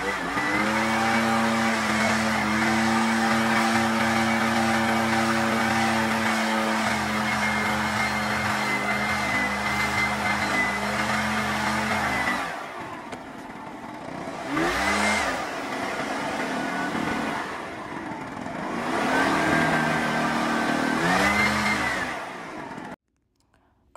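A leaf blower clears freshly edged lawn borders on a mowed residential property, first a loud steady drone for about twelve seconds, then surging and fading in repeated sweeps before cutting off near the end.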